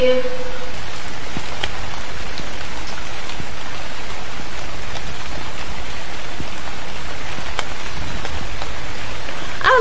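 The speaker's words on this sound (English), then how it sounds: "I love the rain." Steady heavy rainfall, a dense loud hiss of drops hitting surfaces with occasional sharper drips, continuous from start to finish.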